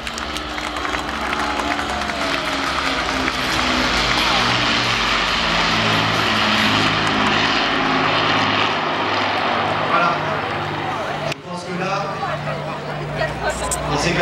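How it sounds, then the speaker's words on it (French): An Avro Lancaster four-engine bomber passes overhead at a D-Day anniversary flypast over Gold Beach and Arromanches, Normandy, its loud droning propeller engines sustained and beating, with crowd murmur beneath. "il faut laisser la pureté du bruit des moteurs"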